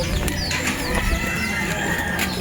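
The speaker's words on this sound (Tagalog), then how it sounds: "Mga manok ni Kuya Yawi." Chickens cluck and squawk close by, with a rooster-like call rising among busy, overlapping fowl sounds.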